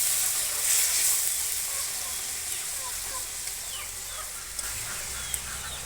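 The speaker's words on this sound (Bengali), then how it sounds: "আবার মাছটাও একটু ভাজা হয়ে গেল" Small desi puti fish fry in hot oil with a steady, close sizzle, dotted with occasional sharp pops and crackles throughout.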